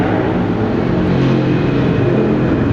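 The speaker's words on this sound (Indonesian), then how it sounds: "Suara motor nih kenceng banget." A motorcycle engine roars loud and close as a steady, broad rumble for the whole stretch, with no voices over it.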